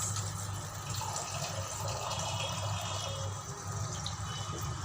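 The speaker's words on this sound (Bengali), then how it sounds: "এখন পরিমাণ মতো পানি দিয়ে দিচ্ছি" Water pours steadily into a pan of rui fish being cooked as a bhuna, a continuous close gushing rush with no pauses over about five seconds.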